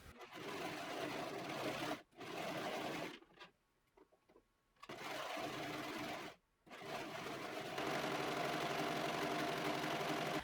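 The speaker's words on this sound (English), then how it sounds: "I serged the parts I was gonna serge and the shoulders" A serger overlocker stitches flannel pieces for a pinafore dress in several close, loud whirring bursts, separated by short pauses and one longer quiet gap before it runs steadily again.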